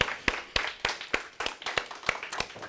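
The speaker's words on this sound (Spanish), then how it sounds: "Dele un aplauso al Señor." Scattered hand claps ring out in a loose, uneven rhythm, a small congregation clapping briefly at moderate volume during a Spanish-language church service.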